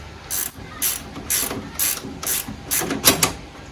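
Ratcheting clicks from a wrench threading bolts into the front suspension of a 1975 Triumph TR6, in about seven short bursts of rapid clicking spaced roughly half a second apart, close and fairly clear.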